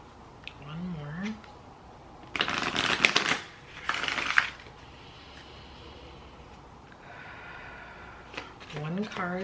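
Cards are shuffled in two quick riffling bursts, close and crisp, with soft sounds and faint background noise before and after.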